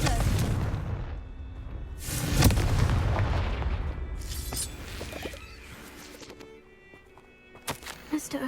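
Confringo fire spell exploding in Hogwarts Legacy, a deep booming blast in the game with loud rumbling bursts that fade to a quieter tail, ending in a few sharp clicks.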